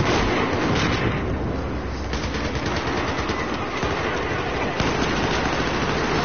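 Constant heavy gunfire and explosive blasts from a Battlefield 4 firefight, with rocket launcher fire in the mix, form a loud, dense, unbroken barrage throughout.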